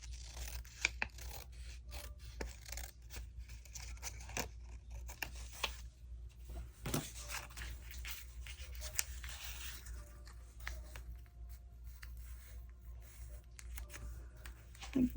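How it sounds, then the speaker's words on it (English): Paper being trimmed by hand to cut a white border off a page, with scattered scissor snips and soft rustling and rubbing, faint and close throughout. "And trim this white off of here a little bit."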